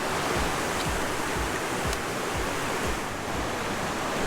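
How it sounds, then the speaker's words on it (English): A river tumbling over little waterfalls on the Salmon River Trail in the Pacific Northwest, a dense, continuous rushing roar, close and steady, with no voices. "We got little waterfalls."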